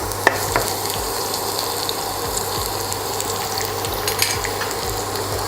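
Chopped garlic fries in hot oil for cabbage manchurian, giving a steady, close sizzle with light crackles and an occasional stir or pop throughout.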